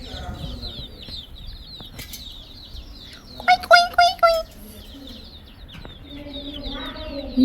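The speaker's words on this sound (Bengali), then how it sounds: "ওদের কি কি কি সাউন্ড শোনো। মুরগি পুষলি একটা দোষ, কি কি কি করতে থাকে" Young chicks in a backyard pen give a brief burst of clucks and chirps near the middle, clear and close against a quiet background with faint talk.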